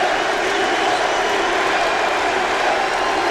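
Arena crowd at UFC 65 roaring steadily for Nick Diaz, the Stockton fighter, a dense continuous wall of cheering and applause at close range with no break.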